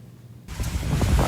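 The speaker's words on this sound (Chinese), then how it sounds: "现在澎湖地区已经受到了台风的影响，虽然雨势不明显，但是风真的很大。" Strong typhoon wind gusting across Penghu island, a loud broadband roar that swells suddenly after a quiet start and keeps blasting the microphone, with no voices.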